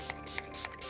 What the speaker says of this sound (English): it just requires us to gel spray it quite a lot to then hold its shape